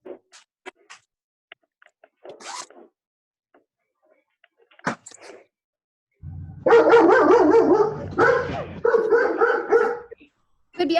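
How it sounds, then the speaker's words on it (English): A dog barks in a burst of loud, close, harmonic yelps and barks over several seconds, following a stretch of scattered faint sounds and quiet talk in an indoor class setting. "Could be anybody's dog"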